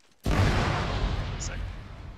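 A bazooka fires at a vehicle in a war video game: one sudden loud blast breaks a near-silence, then a long rumbling roar fades slowly.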